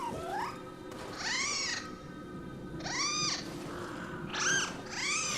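A cat meows in a series of about five drawn-out, rising-and-falling calls over steady low background noise, with no voices.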